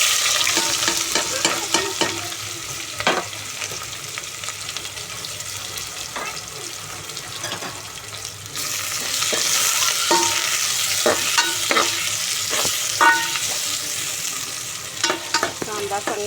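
Onion frying with whole spices in a pot for chicken biryani, a steady close sizzle that swells louder midway, punctuated by occasional scrapes and clinks of stirring.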